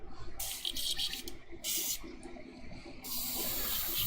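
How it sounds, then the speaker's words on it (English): Airbrush sprayed while being cleaned out, three bursts of bright airy hissing separated by short pauses, close and fairly loud over a low background rumble. "I have this unique way of cleaning out my airbrush."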